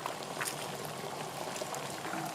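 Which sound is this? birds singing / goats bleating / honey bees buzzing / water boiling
water boiling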